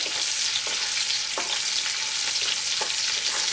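Chopped onion fries in a pan with no added oil while cooking Katla fish kalia, a steady loud sizzle up close punctuated by several light stirring scrapes at irregular intervals.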